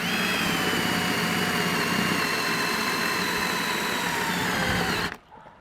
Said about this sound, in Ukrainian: Ось третю дірку я досверлити не можу, зупиняється.